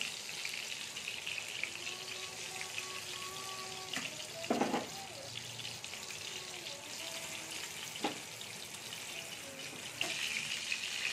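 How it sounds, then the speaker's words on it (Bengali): Eggplant slices fry in a pan with a faint, continuous sizzle and crackle, and a couple of soft utensil knocks occur as the slices are turned. "এখানে আমি বেগুনটা খুলে একটু নেড়ে নিচ্ছি। এই দেখুন একদিকটা ভাজা হয়ে গেছে।"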